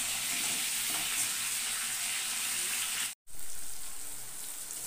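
Spice paste sautés in oil in a pan, giving a dense, even sizzle that holds steady, cuts out for a split second, then resumes.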